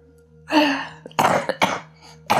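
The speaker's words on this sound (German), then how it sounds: "Ja, jetzt muss ich gleich husten dazu." A person coughs and clears their throat several times at close range, with a long rough hack followed by three shorter bursts, mostly without talk.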